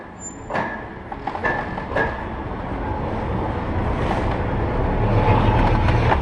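Mail Rail underground train running through tunnels beneath London, a loud continuous rolling rumble with a few sharp clanks and squeals early on, the roar building steadily as it travels.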